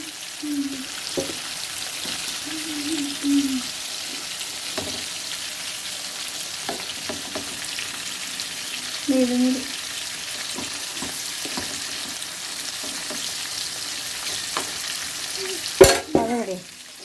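Food frying in hot oil in a home kitchen, giving a steady low sizzle with scattered crackles and a few louder spattering pops, heard close up with no voices over it.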